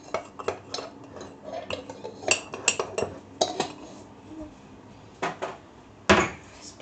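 A spoon scrapes and clinks against a bowl as cake batter is stirred, in uneven bursts with a louder knock near the end.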